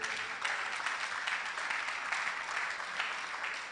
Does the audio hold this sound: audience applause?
yes